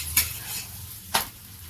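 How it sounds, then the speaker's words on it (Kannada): Sweet roti cooking in a pan as it is flipped: a soft steady sizzle with two sharp scraping turns about a second apart, close and alone with no voices. "ನಿಮಗೆ ಎಷ್ಟು ಬೇಕೋ ಅಷ್ಟನ್ನು ಮಾತ್ರ ಬೇಯಿಸಿಕೊಳ್ಳಿ ಮತ್ತೊಂದು ಸಲ ತಿರುವಿ ಹಾಕಿ"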